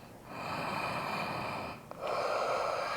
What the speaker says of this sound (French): Une respiration de plus.